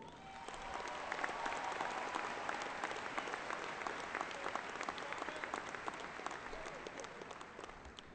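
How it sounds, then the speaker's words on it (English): A large graduation ceremony audience applauds the school orchestra, a steady broad clatter of many hands clapping that holds evenly and eases slightly toward the end. "Please join me in giving another round of applause to our orchestra"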